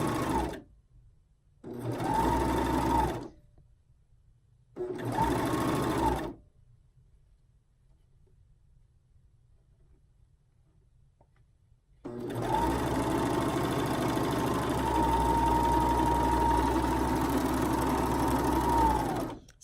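Sewing machine stitching elastic onto reversible scoop bikini bottoms, running in three bursts: two short runs, then a third short run, followed by a long steady run after a pause, with a whirring motor and rapid needle clatter.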